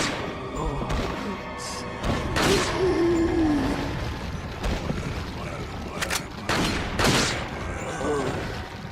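Gunfire in Resident Evil 4 HD, a run of sharp shots and thuds spread through the stretch with game sounds and a voice talking over it.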